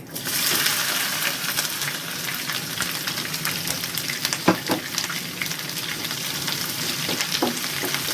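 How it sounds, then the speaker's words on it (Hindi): Onion frying with cumin seeds in a pan for a mixed-vegetable samosa filling, a steady close hiss of sizzling oil throughout with a few soft scraping stirs, no voices. "प्याज को हल्का सा ब्राउन करेंगे, हल्का सा, ज़्यादा नहीं करना"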